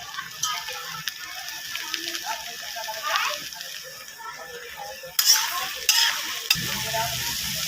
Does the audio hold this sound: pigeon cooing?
no